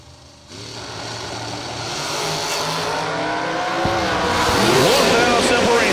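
A supercharged dragster launches and races down a drag strip, a loud engine roar building and rising in pitch as it pulls away, with a sharp shift near the end.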